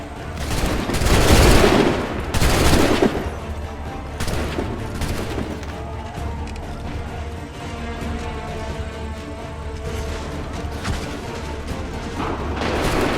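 Musket volleys in the video game Assassin's Creed 3 crack out in bursts, with a loud fusillade early on and further scattered shots and booms in a busy battle soundscape.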